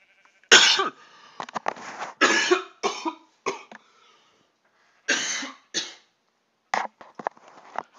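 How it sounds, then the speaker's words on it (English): A man coughs repeatedly into a close microphone, loud harsh bursts in irregular clusters separated by short silences, during Minecraft modpack gameplay. "kill you all with deafening coughs in the ears"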